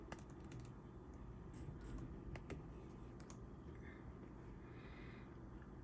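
Quick bursts of keystrokes on a computer keyboard as a zip code is entered, light clicky taps in short clusters over a low steady background hum, no voices.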